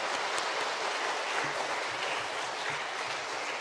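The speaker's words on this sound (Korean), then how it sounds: "우리 격려의 박수 한 번 더 해주시면" A church congregation applauds to encourage the middle and high school students who led worship at a Sunday afternoon praise service, giving steady, moderate clapping that fills the room without a break.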